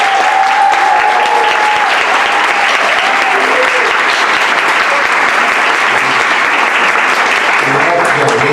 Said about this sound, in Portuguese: Eu queria pedir uma salva de palmas.